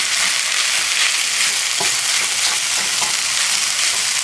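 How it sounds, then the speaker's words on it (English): Rice re-frying in hot oil for shrimp fried rice, sizzling loudly with a dense steady crackle and hiss, with occasional soft stirring scrapes underneath. "You can hear it sizzling, so the oil is hot enough."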